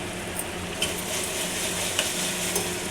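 Ginger garlic paste fries in a pan for dal rice, giving a steady close sizzle with a few faint stirring clicks and no talking.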